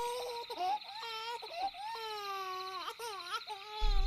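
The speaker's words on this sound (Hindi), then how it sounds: "बच्चा बहुत जोर जोर से रो रहा था।" A child wails loudly and continuously in a dark nighttime setting, with long, wavering, pitched sobs that rise and fall over several seconds, close and alone, with no talking.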